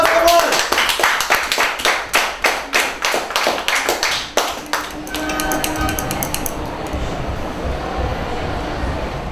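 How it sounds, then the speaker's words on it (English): A small group claps in a science lab in an irregular, fairly close rhythm of about a dozen sharp claps over four seconds, which then give way to a steady hum and room noise. "Big round of applause"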